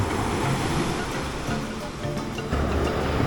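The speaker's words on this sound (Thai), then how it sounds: "คลื่นลมแรง" Sea waves surge and wash onto a beach in strong monsoon wind, a continuous loud roar with gusty wind noise across the microphone and no talk.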